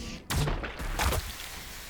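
Gunfire from a Warhammer Battlesector multiplayer battle, two heavy bursts of shots about a second apart, loud and close, with a faint rumbling tail between and after.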